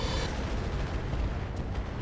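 Heavy weapons fire from battle mechs in the RogueTech strategy game, a dense booming barrage that rumbles continuously and loud throughout, with no talk over it.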